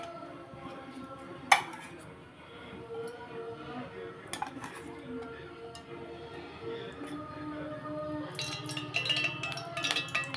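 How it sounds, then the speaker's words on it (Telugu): A pan is set down on a stove with sharp metallic clinks, followed by kitchen clatter of pots and utensils and a softer pouring sound near the end, all close and fairly quiet. "ఈ స్టవ్ మీద ఇంకో పాన్ పెట్టుకున్నాను అండి"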